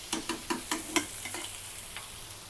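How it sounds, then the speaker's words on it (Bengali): Taro and onion frying with spices in a pan, stirred with a utensil: five or six sharp scraping clacks in a steady rhythm over a low background sizzle, close and fairly quiet, then fading. "মশলা পেঁয়াজ আর কচু ভাজা হতে হতে"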